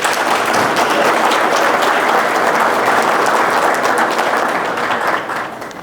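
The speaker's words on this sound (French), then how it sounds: "Je crois qu'on peut les applaudir." Loud, sustained applause from an audience at an official launch event in Kinshasa, a thick wash of clapping that holds steady and then begins to fade near the end.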